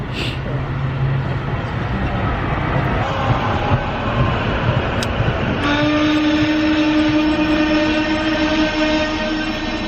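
A train passes close by, giving a loud, steady rumble throughout; partway through, a sustained horn-like tone with layered pitches joins the roar and holds to the end.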